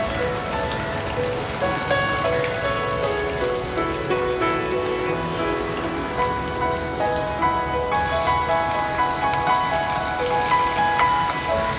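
Okra pieces deep-frying in hot oil give a dense, steady crackle and hiss like rain, close and fairly loud throughout, with no voices.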